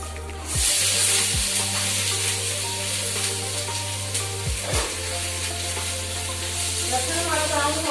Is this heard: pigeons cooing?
no